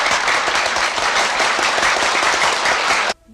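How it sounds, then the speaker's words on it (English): Dense, loud applause from a theatre audience in a 1997 North Korean film roars steadily for about three seconds, then cuts off abruptly into quiet. "the play ends to an uproar of applause"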